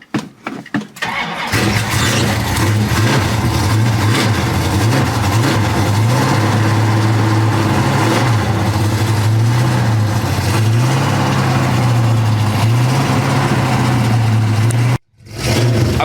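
A Pontiac LeMans with a 455 V8 cranks and fires up, then idles loud and close with a rough, lumpy rumble and a few throttle blips, cutting out briefly near the end.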